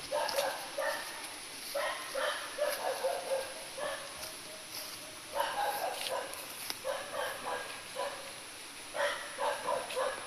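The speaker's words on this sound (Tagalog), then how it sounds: "sama-sama din ang tuta ni Tatay Imbot, oh" A puppy gives short bursts of high yapping barks in repeated clusters, fairly faint against a steady background hiss, with a few quiet voices nearby.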